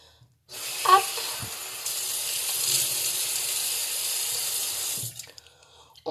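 A tap runs steadily into a sink while a face is rinsed of foaming cleanser, water rushing close and loud for about four seconds with small splashes before it stops.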